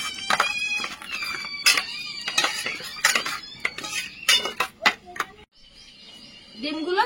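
A spoon clatters and scrapes in a pot while mustard oil, sugar and water are stirred into a gravy, busy close clinks in bursts, a brief pause, and faint bird chirps near the end.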